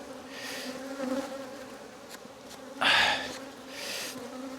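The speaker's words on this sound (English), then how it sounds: "The bees are all over the camera" Honey bees swarm around hive number 2 and over the camera, a dense, close buzzing that rises and falls as individual bees pass near, loudest in one sharp swell toward the end.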